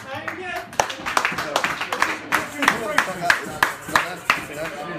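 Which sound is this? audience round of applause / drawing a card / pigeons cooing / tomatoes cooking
audience round of applause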